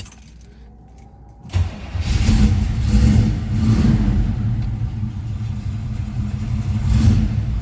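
A 1971 Chevrolet Chevelle Malibu SS 454 cranks briefly after quiet, then fires into a loud, deep V8 rumble with several blips of revving, heard close up.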